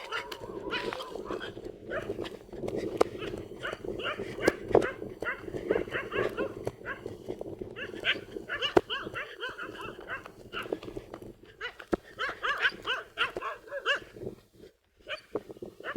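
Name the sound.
dogs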